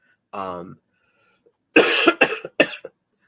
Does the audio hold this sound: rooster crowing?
no